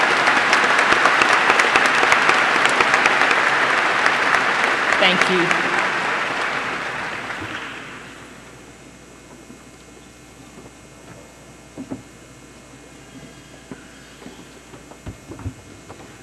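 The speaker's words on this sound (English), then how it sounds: "Please join me in giving these students a round of applause for their achievement" A large crowd applauds students at a high school graduation ceremony; loud, dense clapping holds for several seconds, then fades, leaving quiet room noise and a few stray claps as a voice speaks briefly.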